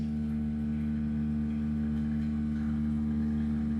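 A Spinn coffee maker running its vertical spin brewing cycle gives a steady, low mechanical hum with a constant motor drone and faint whirring, alone and without talk.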